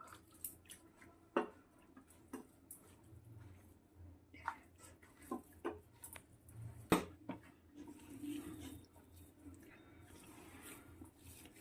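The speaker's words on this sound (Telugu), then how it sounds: "కొద్దిగా వాటర్ పోసి కొంచెం కొంచెం వాటర్ పోసుకుంటూ కలపాలి చపాతీ పిండిలాగా కలుపుకో" Rice flour dough for tappala rotte is mixed by hand while water is added bit by bit, making faint, close, scattered wet squishes and drips in a quiet room with no speech.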